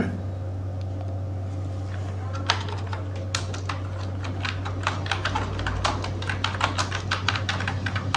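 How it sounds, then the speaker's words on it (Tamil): Rapid, uneven clicks of a computer keyboard as an address is typed into an online application form, fairly close and steady, with a low constant hum underneath and no talking. "இப்போ நான் அட்ரஸ் டைப் பண்ணிக்கிறேன்."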